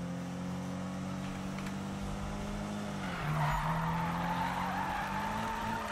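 Tires skid and squeal steadily as a car drifts in Need for Speed 2015, with the engine droning high underneath and the squeal rising in intensity midway through, no voices present.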